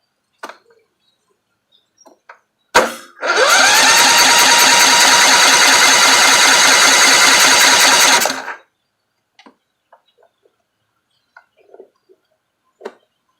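A Kohler Courage engine on a Husqvarna riding mower cranks steadily for about five seconds without catching, a loud continuous starter whir between a few scattered clicks and clunks.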